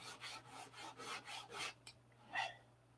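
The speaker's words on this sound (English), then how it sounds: "take a little block like this, and you have to sand out all those shiny spots" A hand sanding block rubs back and forth over shiny spots on a surface in close, rhythmic strokes, about six even passes followed by a pause and one last stroke against a faint steady hum.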